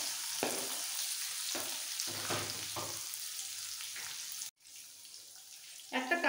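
Grated ginger, slit green chillies, coconut shavings, a pinch of asafoetida and a curry leaf sprig fry in hot oil for a dosa stuffing, a steady close sizzle broken by short stirring scrapes and one brief drop-out near the end.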